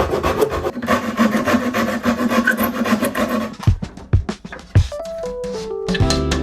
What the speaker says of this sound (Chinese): 这个角胶用锯子就简单多了